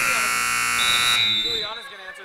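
A loud, sustained buzzer sounds at a women's high school basketball game in a gym, holding steady for over a second before cutting off, followed by crowd noise and voices.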